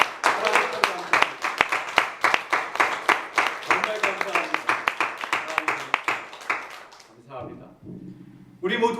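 A church congregation gives sharp, rhythmic clapping in unison, loud and steady, which breaks off into scattered claps and room murmur near the end.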